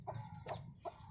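Chicks on a small farm giving three quick soft clucks in succession, faint and close, with no other sounds around them.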